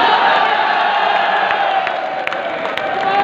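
A college quiz-competition audience erupts in loud, continuous cheering and whooping, a dense crowd roar that stays full and steady throughout, with applause mixed in underneath.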